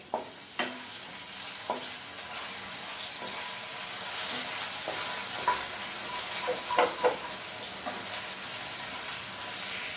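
Masala sizzles in a hot pan on low heat for onion rice, with a steady bed of frying hiss and scattered scrapes and taps of a spoon stirring through it, close and moderately loud, with no talking.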